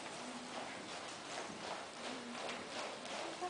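Horse hooves trot in a quick clip-clop rhythm during a riding lesson, steady and moderately close against a continuous noisy outdoor background.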